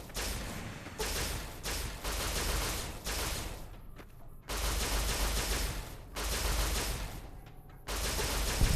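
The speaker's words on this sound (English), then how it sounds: "I need to start shooting." Rapid bursts of recharger weapon fire in Fallout New Vegas, loud sustained volleys in several spells separated by short pauses.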